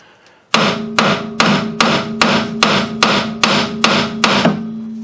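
A hammer strikes metal on the rear strut of a 1999 Ford Contour to knock the spindle loose, giving about ten loud, evenly spaced ringing blows close up with no talking.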